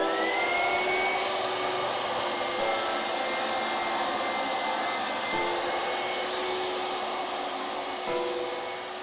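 A Bonner 220 edge sander fitted with a 40-grit, 178 mm disc runs across a wooden floor as a loud, steady, close whine-roar with an even drone, alone with no voices.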